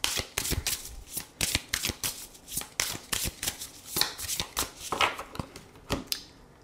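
Oracle cards are shuffled by hand in quick, irregular bursts of crisp riffling and slapping, close and clear, repeating steadily with brief pauses between passes and no voices.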